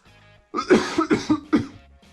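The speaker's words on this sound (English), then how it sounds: "Sorry, I had to cough there." A person coughs several times in a quick, close burst, with a throaty, rough quality.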